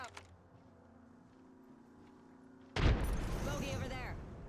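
A frag grenade goes off in a tactical shooter video game, one sudden loud blast after a quiet stretch of low game ambience, followed by ringing debris and a voice talking over the aftermath.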